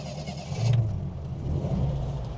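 A Triumph 1500 RWD automatic engine cranks briefly and catches, settling into a low, steady rumbling idle close by.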